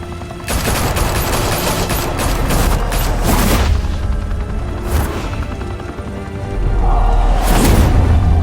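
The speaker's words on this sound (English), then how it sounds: "Open fire!" Dense fusillade of gunfire in Batman: The Telltale Series, rapid loud bursts and booms in a sustained barrage with brief lulls, then another heavy volley near the end.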